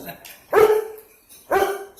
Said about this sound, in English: And my dog is crying,